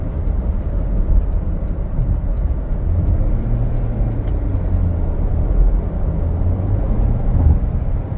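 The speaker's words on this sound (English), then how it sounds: "loud CVT transmission." Toyota Corolla Cross XLE SUV with a CVT transmission heard from inside the cabin while driving, a loud, steady low drone of engine and road noise with no voices.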